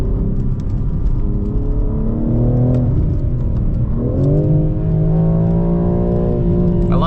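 A 735 hp G82 BMW M4 Competition xDrive on Cup 2R tires, its engine loud and close as it climbs in pitch through the revs, dips at a gear shift and climbs again, with no talk over it.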